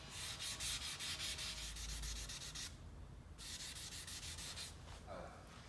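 Coarse-grit sandpaper rubs by hand across the headlight lens of a 2006 Audi A3 in steady rapid back-and-forth strokes, loud and close, with a brief pause before the scraping resumes alone.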